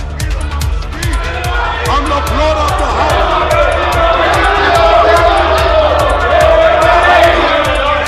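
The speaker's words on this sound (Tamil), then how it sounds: "ஆனால் ராகுல் காந்தி மன்னிப்பு கேட்க வேண்டும் என்று பாஜகவினர் தொடர்ந்து முழக்கங்களை எழுப்பினர்." BJP members in the Indian parliament shout slogans in a loud, continuous uproar, with many raised voices clashing and overlapping in steady, dense crowd noise.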